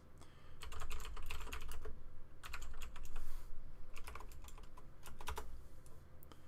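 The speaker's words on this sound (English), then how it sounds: "We're making this to where we can type in our password." A password being typed on a computer keyboard: quick, irregular clusters of clicky keystrokes, close and clear, running over a low steady background hum.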